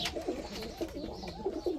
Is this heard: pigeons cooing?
yes